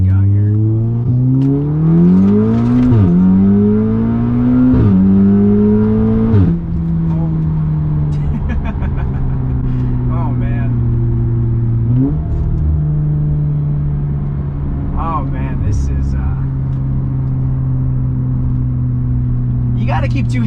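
A big-turbo Audi S3 engine revs hard and climbs through the gears, pitch sweeping up then dropping at each shift, loud and close, with occasional voices over it.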